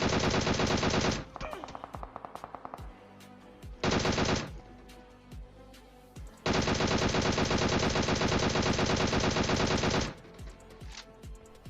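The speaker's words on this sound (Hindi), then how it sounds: "वो बंदा इतने दूर से सकारेल चला रहा है और सारी गोलियां लग रही हैं" Automatic rifle fire from a battle royale shooter game rattles in long sustained bursts and shorter volleys, loud and dense, broken by brief pauses with scattered single shots.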